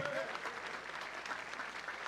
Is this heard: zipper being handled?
no